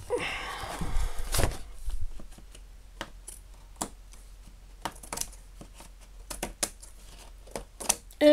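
Quiet, close snips and crisp rustles of scissors cutting paper for a 30x30 scrapbook page, coming in irregular short clicks with pauses between them.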